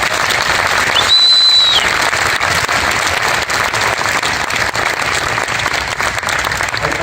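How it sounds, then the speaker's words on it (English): Audience applause for graduating seniors at a high school band spring concert fills the room, loud, dense and continuous clapping throughout, with a brief whistle near the start. "let's give these seniors a round of applause"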